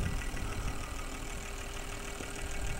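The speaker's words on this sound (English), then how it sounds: "those injectors firing away in there" Fuel injectors and coil packs firing with the engine stopped in the bay of a BMW E39 undergoing an EV conversion, a steady rapid ticking buzz over a constant hum, close and continuous.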